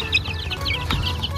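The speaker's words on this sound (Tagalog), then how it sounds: "Lipat na rin natin itong mga sisiw na nabili." Young chicks, bought from a roadside seller and being moved to a farm, cheep continuously in high, rapid peeps, fairly close, over a low background hum.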